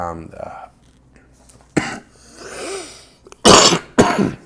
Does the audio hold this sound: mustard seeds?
no